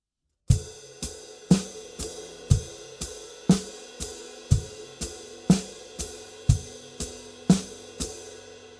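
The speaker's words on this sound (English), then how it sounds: "We've got those same 6 bass drum and snare drum patterns with this hi-hat foot variation" Drum kit groove of bass drum and snare with a hi-hat foot variation: sharp, evenly spaced hits about twice a second, each decaying quickly, with lighter strokes between them, close and unaccompanied by talk.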